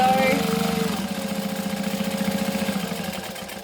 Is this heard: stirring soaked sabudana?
no